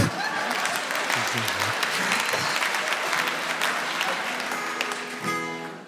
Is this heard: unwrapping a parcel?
no